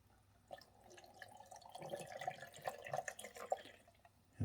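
Water is poured into the reservoir of a Hamilton Beach FlexBrew coffee maker from a pouring container, a faint, close trickle and splash that swells over a few seconds before ending with a soft knock.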